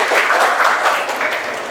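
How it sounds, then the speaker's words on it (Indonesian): A classroom of schoolchildren claps together on the teacher's cue, a short, dense burst of hand clapping close by that holds steady and fades slightly at the end. "Jadi tepuk tangan untuk kita semua ya."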